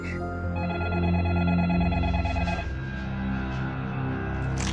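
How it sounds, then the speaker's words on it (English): A telephone rings repeatedly in a steady electronic pattern, set against a dramatic musical score that sits loudly underneath. "it seemed like the phone would never stop ringing"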